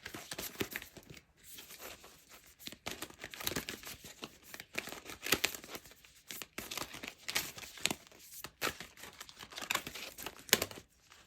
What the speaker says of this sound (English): So let's go ahead and draw some cards from the Monology Manifestation deck.